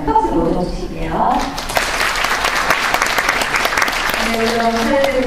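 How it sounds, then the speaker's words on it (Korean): Audience applause at a mock job interview session of a joint public-institution recruitment fair in Busan, loud and sustained clapping from a seated crowd that rises after a spoken introduction and continues steadily to the end. "큰 박수 모셔주시게요."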